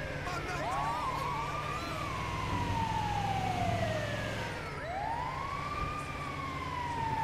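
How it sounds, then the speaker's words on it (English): An ambulance siren in the video game GTA 5 wails loudly and continuously, sweeping up and down in pitch over steady road traffic noise. "Get out the way. Ambulance coming through."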